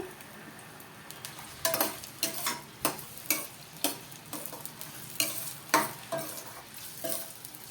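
Onions fry in oil for chicken curry while a spoon stirs them, giving a steady sizzle broken by a run of sharp, close scraping strokes at an irregular beat. No one speaks.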